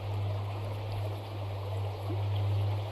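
Steady flowing water streams and trickles evenly at close range, a soft continuous wash with a low constant hum beneath it and no voices.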